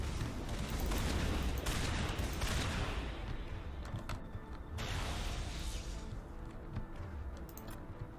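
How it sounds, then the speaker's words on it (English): Gunfire from the player's weapon during an Insanity-difficulty run of Mass Effect 1 Legendary Edition: dense, sustained bursts of rapid shots with clattering mechanical detail, loud and continuous throughout, with no talking. "Thank you, I can finally shoot my bloody gun."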